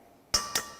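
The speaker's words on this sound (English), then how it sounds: "Crack in your egg." Two sharp taps, a moment apart, as an egg is cracked against a mixing bowl while making healthy blueberry muffins. Both knocks are close and bright, with quiet between them.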